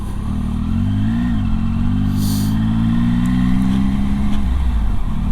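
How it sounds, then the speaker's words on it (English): Motorcycles ride past on a road, their engines rising and falling loudly over a continuous rumble of the rider's own Triumph bike, with a brief rush of wind midway. "And a few bikes coming up this way now."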